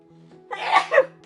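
A single sharp human sneeze bursts out indoors over a faint steady hum, a short inhale followed by two quick explosive peaks.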